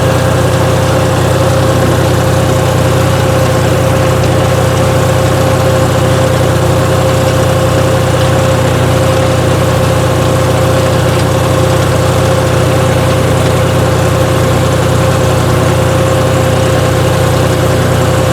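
A new farm tractor engine runs at a steady idle throughout, a loud, continuous low rumble with constant mechanical hum and vibration, no talk over it.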